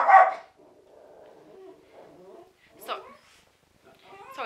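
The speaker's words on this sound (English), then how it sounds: "the TV's on in the background and Baby Dill saw a dog and he's trying to see it off" A dog barks at a dog on the TV, giving a few sharp yips and barks near the start, middle and end, with quieter sounds between.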